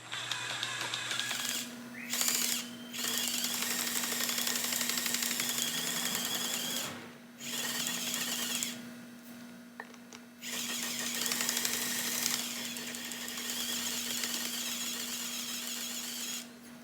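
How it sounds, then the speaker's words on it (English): A VW watercooled 8v valve is lapped by a tool that spins and oscillates it, giving a steady whirring grind close up that stops and starts several times in longer runs, with no talking. "It oscillates it and then it spins it and then oscillates it, and that makes a nice even lap on the valve"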